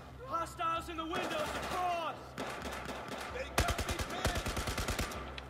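Machine gun fire in Battlefield 4 comes in rapid bursts of sharp, loud shots, first a short burst and then a longer rattling string, with someone talking excitedly between and over the firing.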